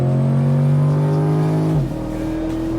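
A supercar engine on a wet race track holds a strong steady high rev that drops sharply near the end, loud and close, with no voices.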